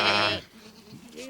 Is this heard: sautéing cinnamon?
no